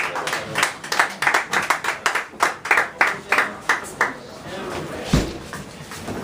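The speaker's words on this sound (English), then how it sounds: "And keep clapping, and keep clapping, keep clapping till he gets up here." An audience at a spoken-word poetry event claps to welcome a poet to the mic, a loud rhythmic run of clapping that fades into crowd murmur and a single thump near the end.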